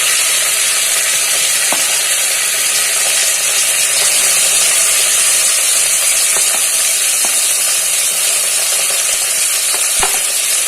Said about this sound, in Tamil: கட் பண்ணி வச்ச வெங்காயத்தை போடணும்